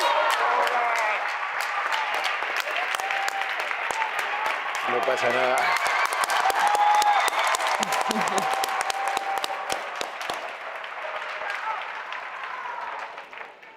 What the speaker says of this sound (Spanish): Un aplauso para José Manuel Poga.